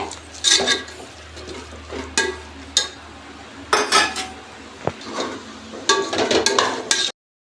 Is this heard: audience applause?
no